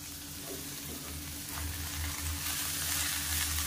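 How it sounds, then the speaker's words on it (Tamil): Thuthuvalai leaves sizzle and fry steadily in a hot pan while being sautéed for chutney, a constant close crackle that grows slightly louder partway through, with occasional stirring. "இதையும் சேர்த்து நல்லா வதக்கிக்கலாம்"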